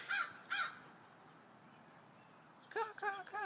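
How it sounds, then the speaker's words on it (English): Crows cawing loudly outdoors: a pair of harsh caws at the start, a quiet pause, then another burst of several rapid caws near the end, fairly close. "All these birds, man, they're loud."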